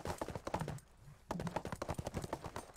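Horse hooves clip-clopping in the MMO video game ArcheAge: Unchained, a steady run of quick, moderately loud hoofbeats with a short lull partway through, close and alone with no talk.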